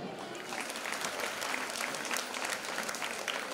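A temple audience claps together through a kumkum archana ritual gathering, producing steady, dense applause that fills the whole stretch at an even level without a break.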